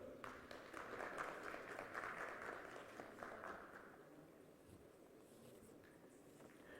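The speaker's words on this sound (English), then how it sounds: "Please, a round of applause for them." An audience at the Africa Business Forum and Expo 2024 applauds, a dense burst of clapping that holds for a few seconds and then gradually thins and fades into room noise.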